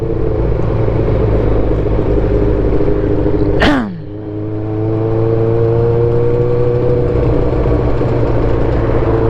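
Cars in slow road traffic on a narrow two-lane road near Laguna Bay give a steady low engine rumble, and one vehicle passes close with a sharp whoosh whose pitch drops as it goes by; the engine drone continues afterward.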